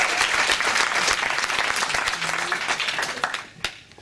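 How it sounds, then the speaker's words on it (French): Audience applause fills a school public-speaking competition final, a steady wash of clapping from a large crowd that tapers and thins toward the end, with one last sharp clap near the close. "Manon Mono et Salomé Picard, vous pouvez les applaudir."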